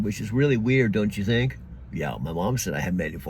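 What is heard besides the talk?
None of the usual background noises is heard.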